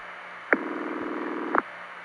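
A single burst of telephone ringback tone on a 1970s Bell System tie-line, steady and buzzy for about a second, set against faint line hiss and hum.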